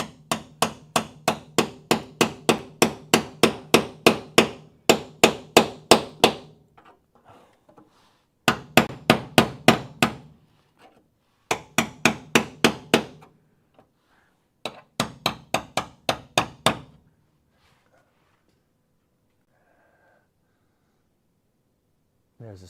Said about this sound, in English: We're using the ball peen. Very nice hammer.